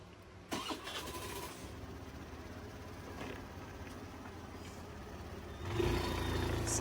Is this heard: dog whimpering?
no